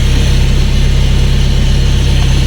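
A mid-engine 1987 Pontiac Trans Am GTA idles steadily with a low, even rumble, close and loud, holding a constant throb without revving.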